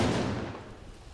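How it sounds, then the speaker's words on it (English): Deep rumbling blast from a controlled explosion destroying unexploded cluster bomb submunitions, a broad loud roar that slowly fades over a second, heard alone without talk. "A controlled explosion"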